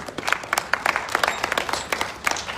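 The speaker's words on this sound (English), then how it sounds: "A round of applause for public voting." A crowd applauds at a surprise 50th birthday gathering for Omoyele Sowore, with scattered, uneven claps from a modest group, fairly quiet and slightly distant, with individual sharp hand strikes standing out.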